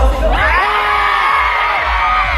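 A crowd at a movie festival fan event lets out a loud, sustained shout together on a count of three, many voices yelling at once close by.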